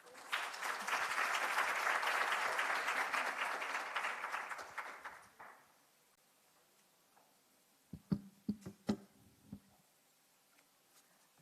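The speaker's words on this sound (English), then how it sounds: "let's give our speaker a round of applause" Audience applause for a speaker at a research symposium, full and sustained for about five seconds before fading out, followed by a few scattered knocks and handling sounds in a quiet room.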